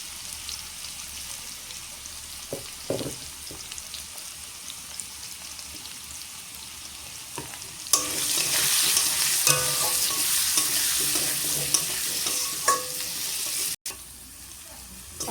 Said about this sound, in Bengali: এখন দিয়ে দেবো লবণ হলুদ।